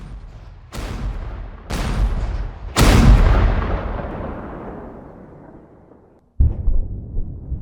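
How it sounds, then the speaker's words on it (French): The fort's 105 mm gun turrets firing, three heavy booming blasts about a second apart, each rolling out into a long fading rumble, then another abrupt blast near the end. "les tourelles de 105 mm du fort cracheront un feu"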